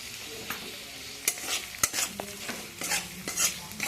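Red chilli powder and a little salt being sautéed in a pan for a Bengali vegetarian khichuri, with a spoon scraping and stirring in irregular strokes over a soft sizzle, close and fairly quiet, no talking.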